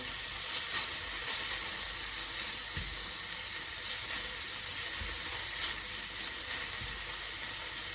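Black Angus beef cubes fry in a hot pan, giving a steady, loud hiss and crackle with an occasional soft knock of the pan, no talking.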